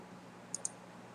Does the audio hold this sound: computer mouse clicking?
yes